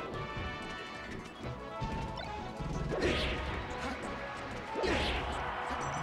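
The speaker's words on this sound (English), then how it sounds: "Two F smashes to the face." Two heavy forward smash hits in Super Smash Bros. Melee during a competitive singles match, each a sharp crashing impact about two seconds apart over a busy bed of game sounds and crowd noise.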